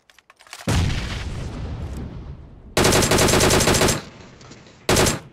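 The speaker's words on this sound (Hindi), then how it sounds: "आते ही फायरिंग करेंगे" Loud machine gun fire in the PUBG battle royale game, sustained automatic bursts with a pause, then a second long burst and a short final one, close and dominant with no talk.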